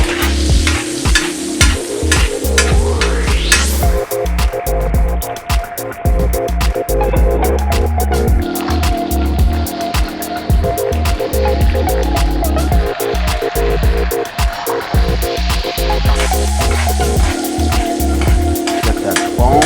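A ribeyed côte de boeuf with butter, grated garlic and jalapeño sizzles loudly and steadily in a hot pan, a continuous crackling fry broken by scraping and stirring clatter, with no talking.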